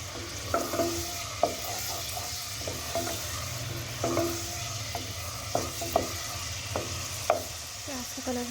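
Chopped onions fry in oil in a pan under a steady soft sizzle. A spatula scrapes and clinks at intervals, with a low hum in the background and no talking.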